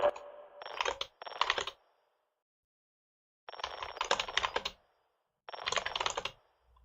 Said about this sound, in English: when I press keys, that actually makes sounds